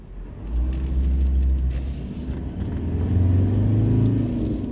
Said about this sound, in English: I love this engine